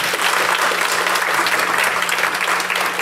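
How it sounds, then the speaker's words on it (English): Audience at a law school symposium applauding steadily, a dense continuous wash of clapping throughout the three seconds. "So we just give everyone a round of applause for that."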